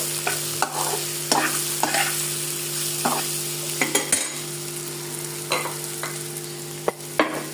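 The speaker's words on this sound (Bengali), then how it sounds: "জিরার গুঁড়ো দিয়ে এখন আমি এটাকে নাড়াচাড়া করতে থাকবো।" Steady sizzling of spices and cumin powder frying in a pan, with repeated scraping strokes of a spoon stirring at an irregular rhythm, close up and without talk.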